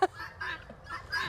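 Pet birds calling indoors, a sharp honk-like squawk followed by softer chattering calls, faint and close.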